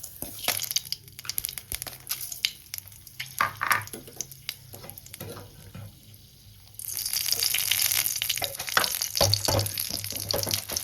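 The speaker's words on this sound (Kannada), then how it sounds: "ಮೆಣಸಿನ್ಕಾಯಿ ಹಾಕಿ ಹುರ್ಕೊಳ್ತಾ ಇದ್ದೀನಿ" Red chillies roasting in a pan for a Karnataka avarekalu saaru, heard as intermittent stirring scrapes and soft crackles that swell into a steadier sizzle partway through.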